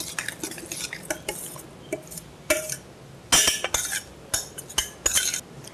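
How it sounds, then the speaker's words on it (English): A spoon stirs a potato stuffing mixture with lemon in a bowl, producing scattered close scrapes, clinks and taps in irregular bursts, with no one talking. "And I'm going to stir it up."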